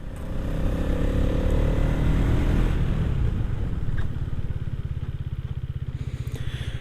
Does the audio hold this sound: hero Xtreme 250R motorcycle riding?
yes